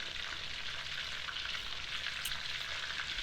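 Chicken pieces coated in a Dijon mustard and egg batter fry in a pan, giving a steady, even sizzle and crackle at a moderate, close level throughout, with no voices.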